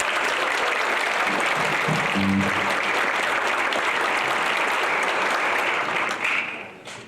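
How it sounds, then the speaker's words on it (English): Sustained applause from a crowd fills the space, dense steady clapping that carries on for several seconds before tapering off at the end. "Let's give them a round of applause."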